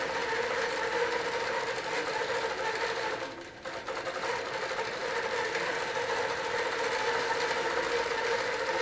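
A quilting sewing machine stitches steadily across fabric with a fast, even mechanical whir that briefly dips and then carries on to the end, no voices.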